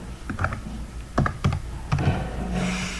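Keys on a computer keyboard typed in short bursts while website structure text is written, the clicks close and moderately loud with pauses between runs.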